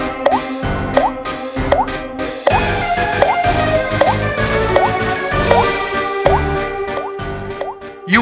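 Water drips from a leaking tap into a sink, each drop landing with a sharp, close plop in a steady, slightly uneven rhythm, about ten drops with faint ringing between them.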